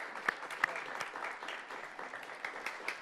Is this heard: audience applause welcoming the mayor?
yes